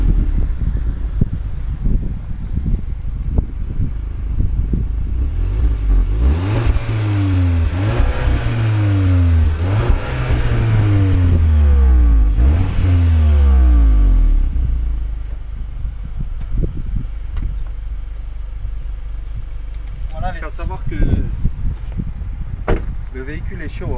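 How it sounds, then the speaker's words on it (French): An Audi S1 Quattro engine with a manual gearbox revs repeatedly through four exhausts, rising and falling in loud surges with a deep burble, then settles to idle with a few crackles and pops. "le bruit des quatre échappements, les petits retours, franchement sympa"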